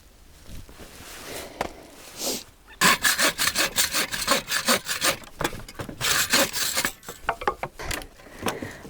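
Firewood sawn by hand at a camp, a few tentative strokes giving way to a fast, rhythmic run of rasping back-and-forth cuts, close and loud, then slowing near the end.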